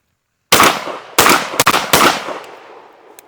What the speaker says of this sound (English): Five more rounds of sterling buckshot, and yes, this metal stock isn't the most comfortable stock.